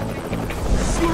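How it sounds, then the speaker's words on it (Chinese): Helicopter rotor and engine noise, a steady broadband rumble and whoosh holding at a fairly loud level through a brief moment, with no distinct blade chop. "直升机"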